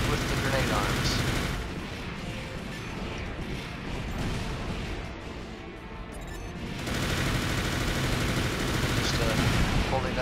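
Heavy cannon and gunfire from armored mechs in the video game Armored Core for Answer, a dense, continuous barrage of blasts and mechanical clatter with a brief lull midway, with a voice talking over it.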